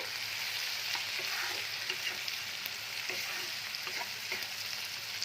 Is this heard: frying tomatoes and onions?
yes